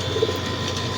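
Racing pigeons cooing, a soft low coo rising briefly near the start over a steady background hum, close and short.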